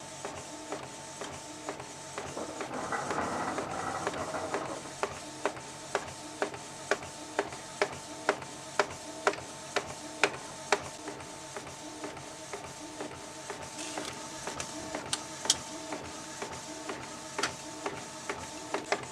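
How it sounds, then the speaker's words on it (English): A printer runs through a sticker print job, giving a steady mechanical hum with a regular series of sharp ticks and clicks as it feeds and prints. "I'm going to be printing out some stuff"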